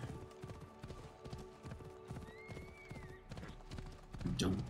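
Horse hooves clip-clopping at a steady gallop in the video game Assassin's Creed Odyssey, with a rhythmic thud of strides under game ambience and a brief whinny near the end.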